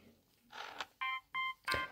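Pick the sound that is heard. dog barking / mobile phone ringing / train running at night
mobile phone ringing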